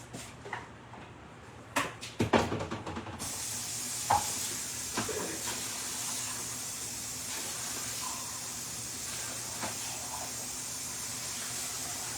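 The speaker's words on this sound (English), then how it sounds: "let me go rinse and drain this one" A can of kidney beans is rinsed and drained in a kitchen: a few sharp metallic clanks, then a steady hiss of running water continues with occasional faint knocks.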